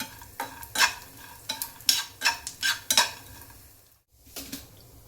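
Small coconut pieces being roasted and stirred in a pan, a series of rhythmic metallic scraping strokes with a light sizzle underneath and a brief pause near the end.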